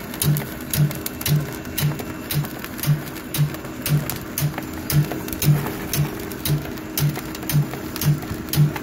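A Welly Puffing Machine S3 fitted with a flat nozzle puffs brown rice, thumping out evenly spaced mechanical clunks about twice a second over a steady whirring motor.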